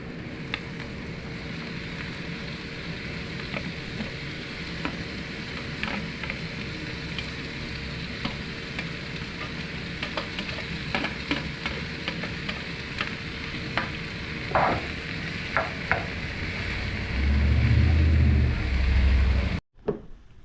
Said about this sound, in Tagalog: Ganyan natin luto ng ating onion.